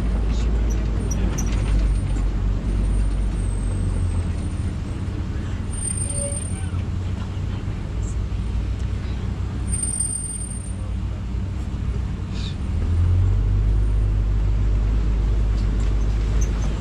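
Safari truck rolling along on a wildlife ride at Disney's Animal Kingdom, a steady low engine and road rumble throughout that swells near the end, with faint background voices and no distinct brake hiss.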